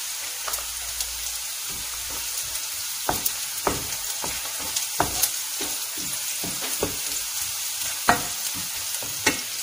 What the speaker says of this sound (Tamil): இப்போ வந்து வெங்காயம் நல்லா வதங்கிருச்சு